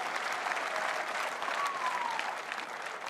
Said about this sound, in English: it's hard to concentrate when you're all clapping